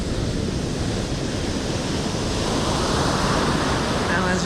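Surf rolling and breaking on Blackpool Sands beach on a lumpy, windy day before low tide, a continuous loud wash of churning waves close by with wind buffeting the microphone throughout.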